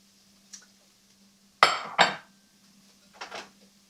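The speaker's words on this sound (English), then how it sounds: "So I am going to add first 1 cup of rice" Dry rice is poured into a metal pot: a faint tap, then two quick, bright rattling clatters close together, with a softer rustle after them in a quiet kitchen.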